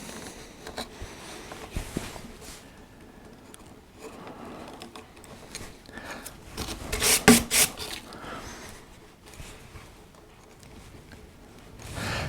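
A chisel carving a cut in wood for a rosette's outer petals, heard as close, dry scraping and rubbing strokes at an irregular pace, with a few sharper, louder scrapes partway through. No one speaks.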